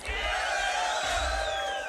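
A crowd at a solo beatbox championship battle roars and whoops in a sustained, loud swell of cheering and shouting. Many voices blend together with no single clear speaker.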